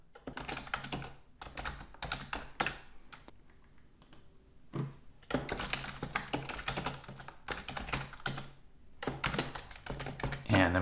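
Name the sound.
typing a message on a computer keyboard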